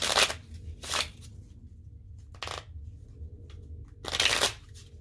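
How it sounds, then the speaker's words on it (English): Playing cards being dealt one at a time onto a table during a reading game, heard as several close, crisp flicks and slaps spaced irregularly over a low room hum. "So I'm going to like deal one and ditch one, deal one and ditch one."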